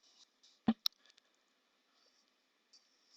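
A single sharp mouse click on an advertisement link, quiet and close, followed by a second faint tick and near silence.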